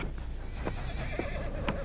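A horse in the video game Red Dead Redemption 2 whinnies a few times, fairly faint, with hoof clip-clops and background noise around it.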